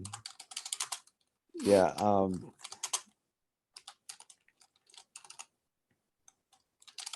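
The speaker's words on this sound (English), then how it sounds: "when you're on camera, typing is much slower" Quick, uneven bursts of typing on a computer keyboard as someone tests a compiler, close and crisp, with a short spoken word breaking in near the start before the clicking resumes in scattered clusters.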